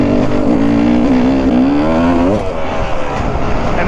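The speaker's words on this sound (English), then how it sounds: "He is riding a 2013 KTM 300XC" A 2013 KTM 300XC two-stroke dirt bike engine revs close by at an enduro ride, its pitch climbing and wavering over a few seconds before dropping into rougher, broadband noise.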